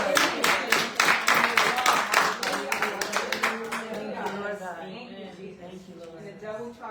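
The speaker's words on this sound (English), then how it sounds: "So I just want everybody to clap for Jesus." An audience claps together, loud and dense at first, then thinning into scattered claps as a voice begins talking over them.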